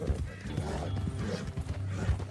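Horse hooves clop in an irregular rhythm with a short whinny in the Western open-world game Red Dead Redemption 2, fairly close and steady over busy game ambience.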